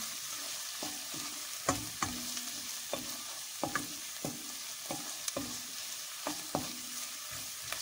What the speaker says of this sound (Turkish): Salçamızı güzelce kavurdum.